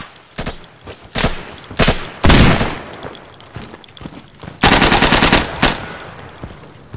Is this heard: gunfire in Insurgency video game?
yes